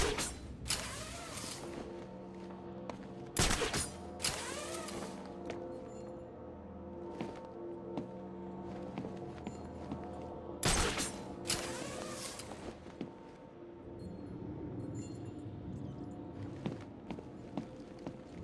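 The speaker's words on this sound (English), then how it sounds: "There's the gun. It looks like it's being controlled remotely by Joker." Gunfire from a remote-controlled gun run by the Joker in Batman: Arkham City, two sharp loud blasts spaced several seconds apart over game ambience, mechanical creaks and footsteps.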